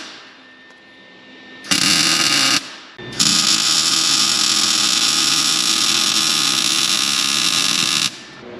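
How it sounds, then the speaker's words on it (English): Steel tabs are welded onto a steel bar beneath a vehicle. A short burst of loud, steady crackling buzz is followed by a pause, then a much longer unbroken run of the same harsh buzz before it stops. "Okay, got all those tabs welded in."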